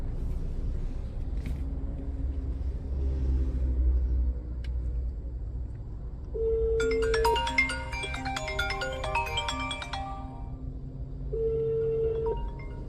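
An Android car head unit with a SIM slot rings with an incoming phone call, playing two bursts of a melodic ringtone over the low rumble of the car interior.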